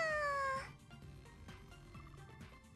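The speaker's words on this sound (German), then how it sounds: "Jetzt ist eine Katze, oder was?" Sword Art Online Fatal Bullet plays a single clear, rising meow from a cat, short and loud, followed by game background music.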